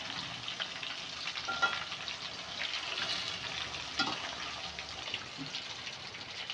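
Katla fish fries in a pan with a steady, even sizzle of hot oil and a spattering hiss, with a few soft bumps and stirs audible over the continuous crackle.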